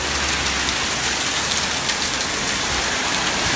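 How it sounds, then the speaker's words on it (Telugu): Hailstones falling with heavy evening rain in Nazareth, a loud, dense and unbroken roar of impacts on surfaces close by, with no voices. "వడగళ్ళు పడుతున్నాయి."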